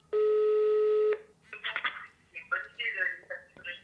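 A telephone number is dialed: a steady dial tone is followed by a quick run of tonal keypad beeps, close and clear, ahead of a customer service call.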